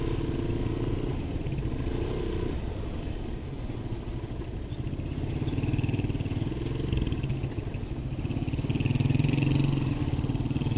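A motorcycle rides along a muddy, slippery road in Minalin, its steady mid-pitched engine drone running continuously at close range with some clatter and road noise, no talk.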